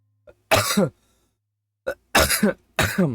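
A series of close, harsh coughs and throat clearings in three bursts, with short silent gaps between them.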